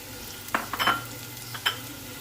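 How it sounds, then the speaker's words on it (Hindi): Capsicum stir-fried briefly for a chicken spring roll filling, a low sizzle punctuated by several quick spatula scrapes and tosses in the pan, close and clear. "शिमला मिर्च डालेंगे पहले, क्योंकि इन सब्जियों को सिर्फ 2 मिनट के लिए हमने पकाना है"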